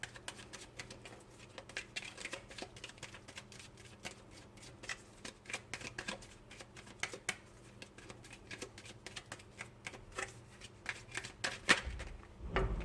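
An oracle card deck being shuffled by hand, producing a steady flurry of close, crisp riffling and flicking card sounds that continue throughout with no talking.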